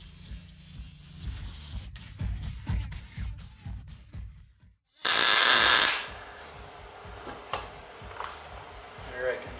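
A single short tack weld on steel differential armor plates gives one loud, crackling buzz lasting about a second, close by, with someone talking before and after it.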